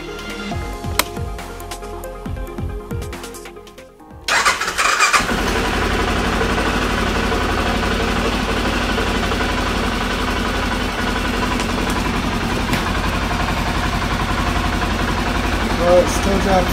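An Arctic Cat 550 engine cranks briefly, catches and starts, then settles into a loud, steady idle that runs without a break to the end, heard close up and alone.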